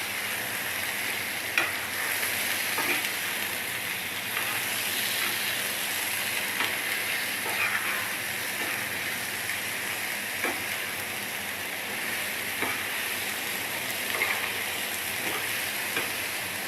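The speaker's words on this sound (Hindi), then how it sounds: "जी तो चिकन को हम लहसुन और अदरक के साथ फ्राई करेंगे।" Bone-in chicken frying with garlic and ginger on a tawa, a steady loud sizzle with occasional stirring scrapes, close and continuous, no talking.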